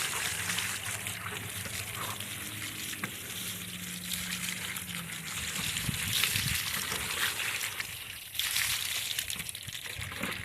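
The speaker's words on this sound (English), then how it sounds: "Now, I'm gonna rinse my table off." Water hosed over a fish-cleaning table after filleting sheepshead: a steady, close splashing and hissing spray that runs throughout with slight surges.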